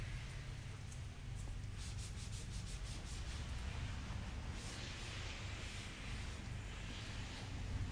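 A towel wipes plastic car trim with soft, continuous rubbing strokes, close and quiet, with no voices.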